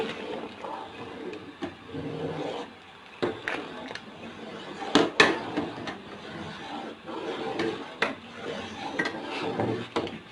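A spoon stirs kheer in a cooking pot, giving irregular metallic scrapes and clinks against the pot. The sounds are close and moderately loud, with a few sharper knocks over a faint background bubble.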